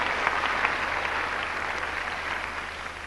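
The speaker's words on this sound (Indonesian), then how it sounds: "tepuk tangan untuk dia" Steady applause from a church service congregation, a dense wash of clapping that holds at an even level for a few seconds before easing slightly.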